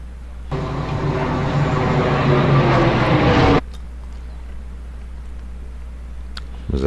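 Aircraft engine noise from 9/11 footage of a plane striking the World Trade Center: a loud, steady droning roar lasts about three seconds, then cuts off abruptly to a quieter background.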